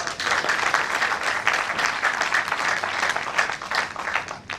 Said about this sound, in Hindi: मेरे ख्याल से ताली वाली बात है।